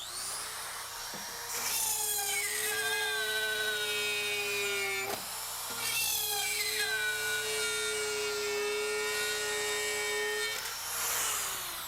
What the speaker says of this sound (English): But check out the RotoZip Spiral Saw. This thing is so lightweight.